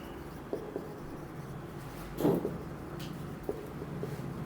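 Chalk or marker writes on a board during a geometry lesson, a faint scratching with a few soft taps and one louder stroke in a quiet room.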